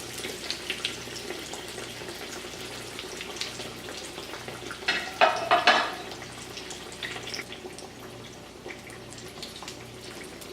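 Breaded eggplant slices fry in oil heated to about 300 degrees over a medium-low burner, giving a steady close crackling sizzle that swells into busier, louder popping midway before settling back.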